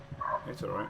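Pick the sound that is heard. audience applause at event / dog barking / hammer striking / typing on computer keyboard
dog barking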